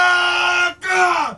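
Panicked villagers recorded as crowd sound for The Hobbit, a loud sustained group yell that breaks off briefly and then resumes, the voices wavering and falling in pitch at the end.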